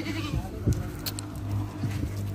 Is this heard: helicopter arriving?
no